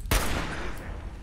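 A single sharp gunshot in Fallout 4 cracks near the start, then a long rumbling echo fades out.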